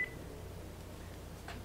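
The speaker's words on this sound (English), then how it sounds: "and my phone is ringing." A phone rings faintly in the background during a podcast recording, a brief electronic tone followed by a softer chirp amid low hum.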